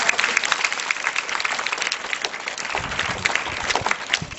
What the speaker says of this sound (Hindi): उसके लिए आपने जोरदार तालियां बजानी हैं